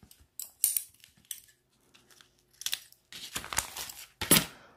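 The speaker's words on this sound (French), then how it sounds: "je vais tout simplement le couper avec ma paire de ciseaux" Scissors snip through adhesive paper in several sharp, close cuts separated by short pauses, with some crinkling of the sheet.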